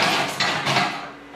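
Pots, pans and metal kitchenware rattling and clanking inside deep kitchen cabinets, a dense, busy metallic clatter in a couple of bursts that then thins out, with no talking.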